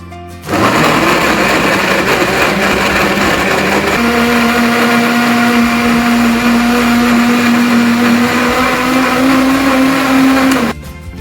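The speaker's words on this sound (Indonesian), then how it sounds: "setelah itu blender buah tomat." An electric blender whirs loudly, blending cut tomatoes with 500 ml of water: a steady high motor whine that starts abruptly, drops slightly in pitch partway through, and cuts off near the end.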